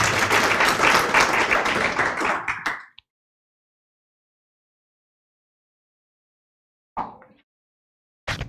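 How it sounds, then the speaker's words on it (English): A room of guests at a medical school white coat ceremony clap for a speaker, brisk applause for about three seconds that then cuts to silence, with brief bursts of clapping resuming near the end. "let's give her a round of applause as she comes"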